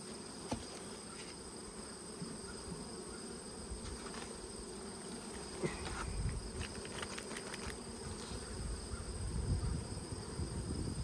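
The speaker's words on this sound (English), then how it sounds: "That is a lot of bees." Dense, continuous buzzing of a large honey bee swarm at a hive, many wings humming together at moderate volume, with occasional louder passes close by.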